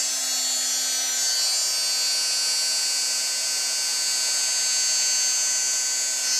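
A heat gun blowing on embossing powder gives a steady, continuous whirring hiss of fan and hot air, even and unbroken throughout at close range.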